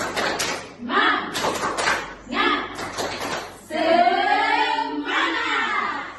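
Children in a classroom perform a rhythmic spirit clap, several quick groups of sharp claps followed by voices chanting together.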